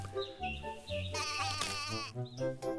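A mother goat bleats in a farmhouse as part of a children's bedtime story, giving a loud, sustained, wavering bleat that runs almost continuously under a warm, close sound.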